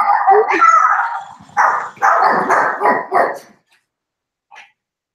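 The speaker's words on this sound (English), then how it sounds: "if Willow starts barking, that is why" Dog barks and howls close by in a rapid string of loud yelps and bow-wows, then falls quiet with a single faint yip after the pause.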